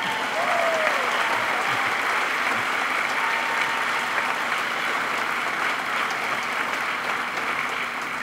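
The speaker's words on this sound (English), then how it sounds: "let's give her another round of applause" Sustained audience applause at an outdoor groundbreaking ceremony, with thick, even clapping that stays loud and continuous from start to finish, a few faint voices in the background.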